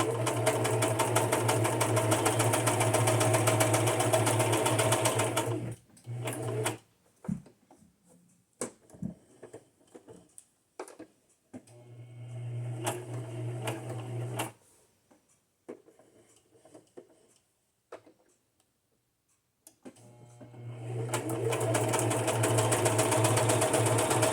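An electric sewing machine stitches journal cards for junk journals, long loud runs of rapid steady whirring and clatter, broken by quieter pauses with handling clicks and a short burst in between, close and without speech.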